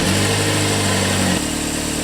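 A Chevy HHR 2.4L four-cylinder engine idles steadily right after a drive belt and tensioner replacement, with a loud, close, even hum and a slight drop in pitch partway through.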